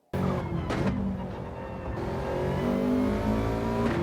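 Gr4 race car engine in Gran Turismo 7 on the St Croix layout, snarling loudly and close as it brakes, shifts down and surges back to full power, with rising revs through the gears and no talk.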